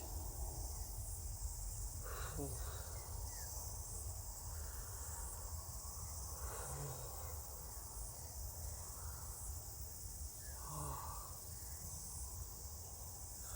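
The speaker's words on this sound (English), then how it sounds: "the crickets are really busy." Crickets chirp steadily in a quiet outdoor night, a soft continuous high-pitched trill with no voices.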